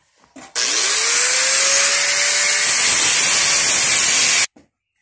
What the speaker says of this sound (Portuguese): Então nós vamos estar usando a lixadeira.